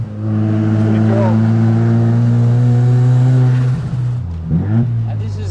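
A 1972 Mazda RX3 Savanna's 13B turbo rotary engine holds a loud, steady high drone, then drops off with brief burbles as the revs fall, heard close by with faint voices.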